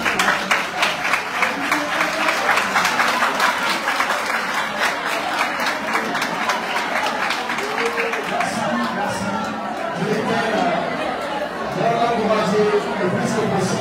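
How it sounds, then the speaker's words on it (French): A debate hall audience in Guinea bursts into loud, sustained applause that fades by the middle, giving way to crowd chatter and voices talking over the room. "J'aimerais bien qu'on applaudisse à Sénat."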